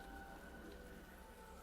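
Steady rain falling in a video game, a faint, continuous patter with no talk over it.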